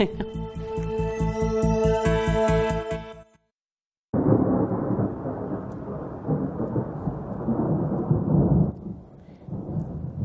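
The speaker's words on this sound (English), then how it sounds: "Thunder and lightning in a snowstorm. That's what that second nor'easter is bringing to New England." Thundersnow from a nor'easter snowstorm in New England, a deep rolling rumble of thunder, loud and sustained for several seconds. It follows a short musical sting and a brief silence.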